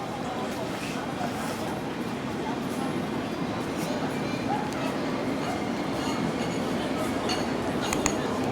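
A dog shut in the back of a car gives faint, scattered yips and short barks over a steady background hum.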